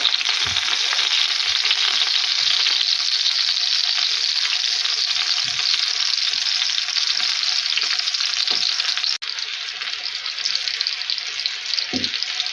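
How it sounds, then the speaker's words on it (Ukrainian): Young potatoes fry in a pan with a steady, close sizzle that fills the whole stretch, broken by a few soft knocks and scrapes as the pieces are turned, and one sharp utensil clack near the end. "перевернула і даю її, щоб вона ще трошечки з другої сторони так підсмажилася"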